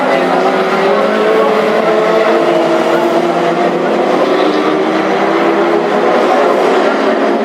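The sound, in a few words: classic hot rod race cars racing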